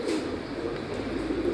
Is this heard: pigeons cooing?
yes